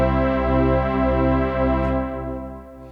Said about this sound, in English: let's add the chorus